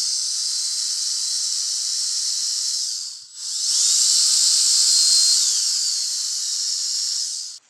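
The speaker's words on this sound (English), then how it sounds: "we recommend using a 5-inch white brush with a close quarters drill." A close-quarters drill spinning a 5-inch white scrub brush against a curtain makes a loud, steady high hiss, broken by one brief pause before resuming.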